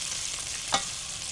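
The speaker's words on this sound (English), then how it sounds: "Adding your dry chilies." Dry chilies drop into hot oil with sautéing onion, a soft steady frying hiss with one brief louder sizzle burst partway through, close and quiet, no talking.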